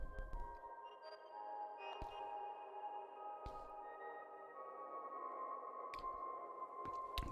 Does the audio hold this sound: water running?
no